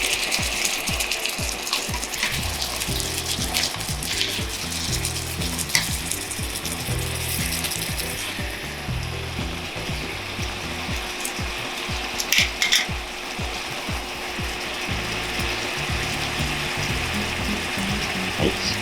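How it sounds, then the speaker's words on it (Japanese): A pan of demi-glace style sauce with alcohol for a cheese-topped hamburg steak boils hard, giving a dense, steady, close bubbling and sizzling rattle that continues throughout without speech. "しっかり沸騰してアルコールが飛んできました"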